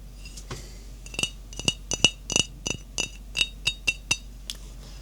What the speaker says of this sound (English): Antique Aunt Jemima glass bottle.